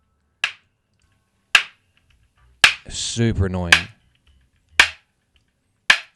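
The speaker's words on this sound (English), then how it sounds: "We'll take everything else out and just hear this one thing called wood claps" Isolated wood claps from a multitrack of a soul song ring out as sharp, dry single hits spaced about a second apart, five in all, with a person talking briefly between them.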